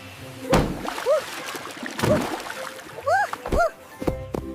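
Cartoon water splashing in a children's alphabet lesson, several quick sloshes and splashes mixed with playful rising chirps, loud and close with a voice speaking alongside.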